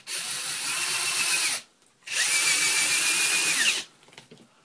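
A Dewalt DW920 cordless drill converted to lithium power runs in two bursts. Each is a steady high whine that ramps up, holds for about a second and a half to two seconds, then stops.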